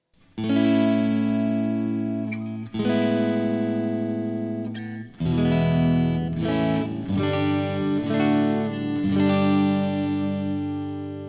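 Clean electric guitar chords from a smart guitar strummed through its built-in speaker, each left to ring out, about five chords in a slow sequence.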